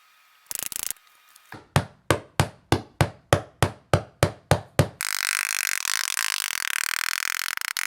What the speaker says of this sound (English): Hammer down all those stubborn staples that didn't embed all the way through the wood